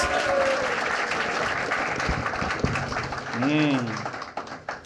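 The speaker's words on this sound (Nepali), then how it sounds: "सो भाइको लागि जोरदार ताली" Audience applause at a show, loud clapping from a crowd that swells and then fades, with a voice speaking over it partway through.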